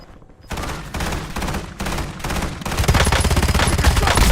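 Rapid video game gunfire in a shootout, dense bursts of automatic shots that build louder and heavier toward the end, with no talking.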